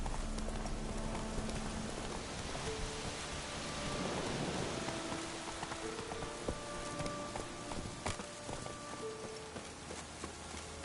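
Roach, Geralt's horse in The Witcher 3, trots through a thunderstorm, its hooves clip-clopping steadily under a constant hiss of heavy rain and low rolling thunder.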